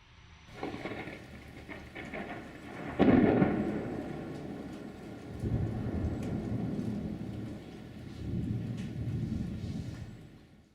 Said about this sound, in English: So you see the lightning first, you wait, and then you hear the thunder.